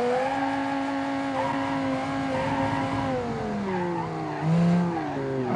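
A V10-engined Bigfoot SUV build in BeamNG drives with a loud, close engine whine whose pitch rises and dips through gear changes, with a brief squeal of tyres near the end.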